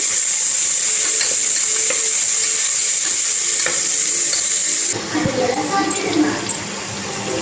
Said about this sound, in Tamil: இப்போ தக்காளி போட்டுக்கலாம் நல்லா கிண்டி விடுங்க